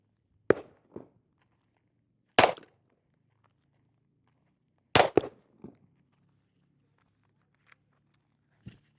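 Glock 19X pistol fired at an outdoor range: sharp, loud reports ringing out several times with pauses between them and quiet in the gaps, and no talking.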